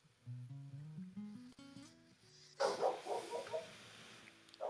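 A dog nearby gives a rising, whining cry and then several sharp barks, fairly loud with no talking.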